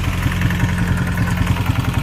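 A tractor engine runs at a steady idle, giving a low, throbbing, rhythmic chug with light mechanical clatter. It is loud and close, and no one speaks over it.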